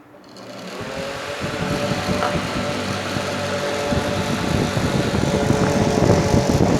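A small electric fan runs off a mini inverter, its motor starting up and settling into a steady, close whirring hum with a faint rattle that holds throughout.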